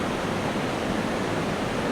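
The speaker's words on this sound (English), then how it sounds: "it's just a small little waterfall" A small waterfall near a campsite pours with a steady, even rush of broadband water noise, fairly close and alone.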